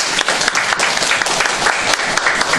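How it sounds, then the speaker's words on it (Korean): Congregation at a Sunday worship service of Muldaen Dongsan Presbyterian Church clapping for teachers and students, a short, loud, dense round of applause from many hands. "잘 자란 우리 학생들 감사해서 하나님 앞에 영광의 박수 한번 드려주겠습니다"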